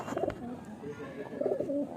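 Pigeons coo softly inside a pigeon loft, with a couple of short rolling coos close by and faint background murmur.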